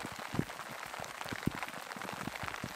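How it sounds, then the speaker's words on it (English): Hail falls outdoors on a mountain during a wildlife shoot, with a dense, steady patter and a few sharper, louder stone impacts close by. "it's getting heavier, so, oh, and it's hailing"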